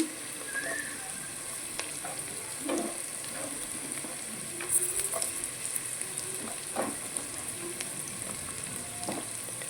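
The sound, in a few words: carrot added to sizzling pan of semiya upma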